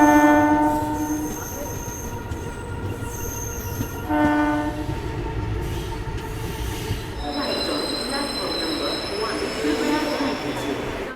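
A steam heritage train on the Ahmedabad to Ekta Nagar route arrives at a station, with loud horn blasts, squealing wheels and a steady rumble of railcars.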